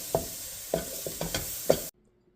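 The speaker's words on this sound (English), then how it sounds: "we're just going to stir that and let it diffuse for about a minute or 2." A spoon stirring paprika and poultry seasoning into a pot of homemade chicken soup, several close scraping strokes against the pot over a faint simmer, ending abruptly.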